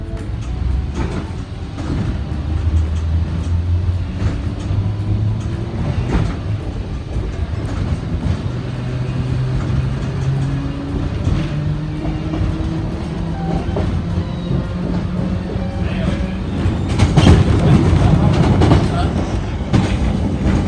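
A 1938 former London Underground train at a station on the Isle of Wight rumbles and hums steadily, with rising motor whine, clattering wheels and a louder burst of mechanical noise near the end.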